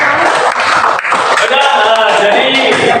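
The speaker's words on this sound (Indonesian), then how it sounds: "Tepuk tangan untuk kalian." Students clapping in a classroom after a lesson on Earth's layers, a short burst of many hands that fades into a murmur of young voices and room noise.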